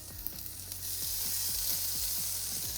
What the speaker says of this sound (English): Do you hear that sizzle? That is bacon happiness.